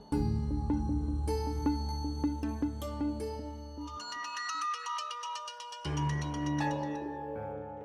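A phone ringtone plays a loud, melodic electronic tune in repeating phrases, with a brief drop in its lower tones midway before the full tune returns.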